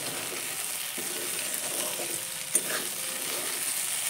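Okra and potatoes fry in a pan after a lidded spell on low flame, with a steady sizzle throughout and a few soft stirring scrapes and one sharp utensil knock partway through.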